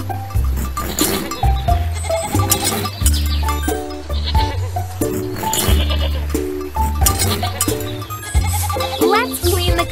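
Cartoon goats bleat repeatedly in a children's farm game, loud and close over bouncy background music with light jingling chimes.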